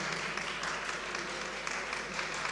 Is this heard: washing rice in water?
no